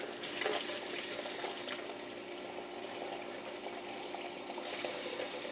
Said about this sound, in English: Turning on the water.